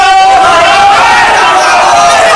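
Party workers stage a protest against Jiten Ram Manjhi, a loud, dense crowd shouting together in a continuous roar of raised voices with no pauses.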